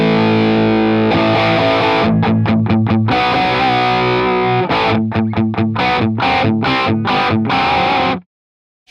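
Distorted electric guitar through a BIAS MINI amp set up for dirty tones with different tubes; loud, thick sustained chords followed by rhythmic palm-muted chugs, then a sudden stop, with no talking.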